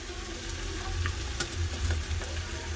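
Chili and coriander powders hit hot oil in a frying pan while a Bengali bottle gourd and cauliflower ghonto cooks, giving a steady close sizzle and crackle with a low bubbling bed. It runs throughout and no one speaks.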